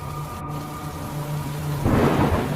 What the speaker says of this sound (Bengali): এই বৃষ্টি তো আরো জোরে পড়ছে রে,